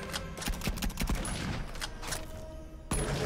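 Rapid gunfire in the VR shooter The Light Brigade on PSVR 2, a dense run of sharp close shots and bursts repeating across the whole stretch with a brief lull near the end, no talking.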